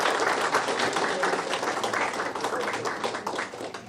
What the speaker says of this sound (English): Can we have another round of applause for the winner of the Best Organization Award 2020?